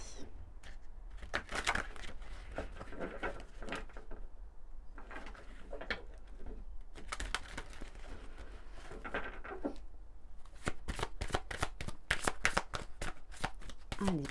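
Oracle cards being shuffled by hand in repeated rapid riffling bursts, crisp papery flutters close up, with soft background noise between bursts.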